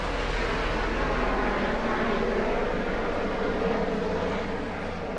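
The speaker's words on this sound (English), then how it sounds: "That's a helicopter, just right over my home." A steady, loud helicopter engine roar with a low rumbling drone, holding constant as it passes close overhead.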